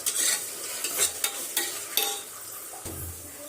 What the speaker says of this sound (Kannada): ಈರುಳ್ಳಿ ಎಲ್ಲ ಮಸ್ತ್ ಹಂಗೆ ಫ್ರೈ ಆಗಾಕತೈತ್ರಿ